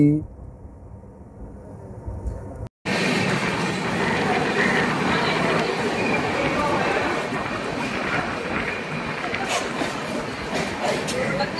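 The Howrah–Lal Kuan Superfast Express pulls into Bardhaman station, a steady rumbling rush of wheels and carriages that starts abruptly after a quieter stretch and carries on evenly, with some high squealing near the end.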